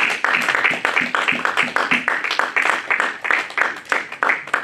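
A church congregation at a French-language worship service applauds and cheers, steady rhythmic clapping with voices mixed in, loud and close throughout, no distinct speech over it.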